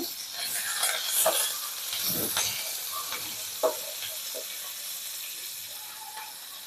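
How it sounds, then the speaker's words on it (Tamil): Ginger, green chillies and curry leaves fry in oil for batata vada, making a soft, steady sizzle broken by occasional stirring scrapes, close and moderately quiet. "இஞ்சியும் பச்சை மிளகாவும் வந்து எண்ணெயிலே போட்டு ஃப்ரை பண்ணிங்கன்னா"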